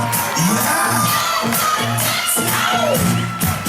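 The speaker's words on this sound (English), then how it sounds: "Give them a huge round of applause." Crowd at a cruise ship crew talent show cheering and whooping loudly over steady background music, with clapping blended into a dense, continuous roar.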